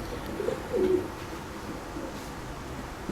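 Pigeons on a rooftop in Karachi give a few soft, low coos in short bursts near the start, set against steady outdoor background noise.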